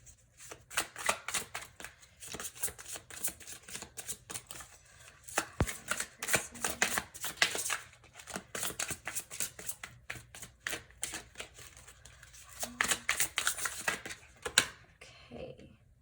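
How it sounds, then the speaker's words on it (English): A deck of tarot cards being riffled and shuffled by hand, repeated rapid fluttering bursts with brief pauses between them, close and fairly quiet, no voices. "had a bunch pop out, so I'm going to reshuffle"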